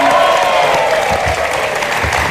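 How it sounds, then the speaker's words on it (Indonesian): A television studio audience applauds the house band on an Indonesian talk show, with dense, loud, continuous clapping that fills the whole moment without any talk over it. "Tepuk tangan untuk bukan mata bandnya."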